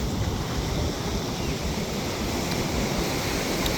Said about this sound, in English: Super good amount of waves